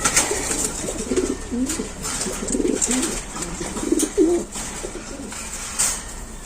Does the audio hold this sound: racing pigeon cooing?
yes